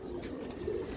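Domestic pigeons coo softly and steadily through a brief moment at feeding time, a low murmuring call with no voices over it.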